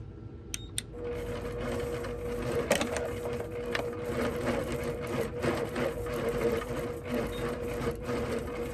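Quilting sewing machine motor running under a stitch regulator while stitching small meandering patterns, a steady mechanical whir with rhythmic ticking that ebbs and flows in pace, close and continuous throughout.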